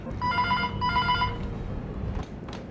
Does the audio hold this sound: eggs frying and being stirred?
no